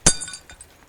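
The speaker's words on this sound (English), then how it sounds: "A second glass broken." A drinking glass smashes once in an audio drama, a sharp close crash followed by a few faint tinkling fragments settling.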